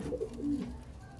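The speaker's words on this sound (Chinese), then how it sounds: "2021年第一对小鸽子" Pigeons in a loft where newly hatched chicks have just appeared give a short, close, soft cooing call, a couple of low throaty notes lasting about a second, with no voices.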